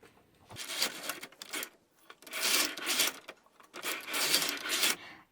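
A double-bed knitting machine knitting circular rows for seamless mittens, its carriage sliding across in three long rasping passes with short quiet gaps between them, close and alone.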